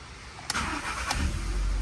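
Volkswagen Polo MSI engine cranking and catching, a sharp starter burst followed by a steady close idle rumble with no talk.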